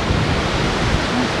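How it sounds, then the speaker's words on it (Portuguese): Rough, storm-driven sea surf on the Rio Grande do Sul coast, waves pounding up against the dunes, heard as a steady, dense roar of breaking water with wind noise and no pauses. "Tá impossível andar no meio do mar, o mar tá em ressaca"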